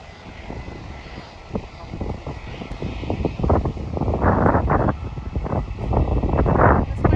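A low-flying airliner approaches over the beach beside Phuket airport, its engine roar swelling steadily louder amid gusty wind buffeting the microphone.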